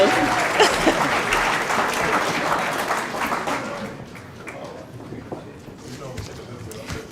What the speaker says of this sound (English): please give another round of applause for all of our staff